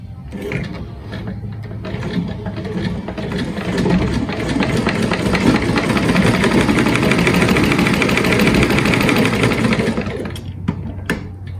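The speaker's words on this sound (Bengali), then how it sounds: "সেই কাপড়টা সাইড আমি আপনাদেরকে সেলাই করে দেখাচ্ছি" An electric sewing machine stitches along the side of a piece of cloth, its motor running in a fast, steady whirring chatter for about ten seconds before stopping, close and loud.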